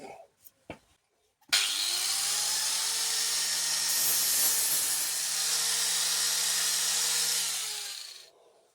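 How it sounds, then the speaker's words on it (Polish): An electric sander starts up after a few short knocks and runs steadily for several seconds on dried, rotted yacht wood, with a whining, broadband hiss, then winds down. "Nie, włączymy szlifierkę."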